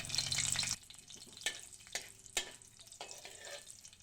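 Garlic and fenugreek seeds fry in oil for a green chili chutney: a brief loud burst of crackling sizzle at first, then quieter frying with a few sharp scattered pops and stirring taps.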